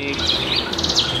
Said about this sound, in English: This is a blue-tailed bee eater.